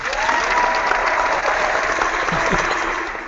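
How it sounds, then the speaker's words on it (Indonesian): Audience applause during an online seminar, a steady dense clapping sustained loudly for a few seconds with no voices over it. "Semoga di luar sana teman-teman ikut tepuk tangan ya Mas sama kita."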